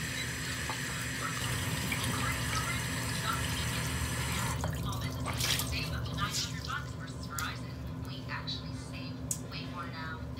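Water runs and splashes at close range as skin cleanser is rinsed off, with steady running water and a burst of splashing and dripping partway through. A voice is faintly present at times.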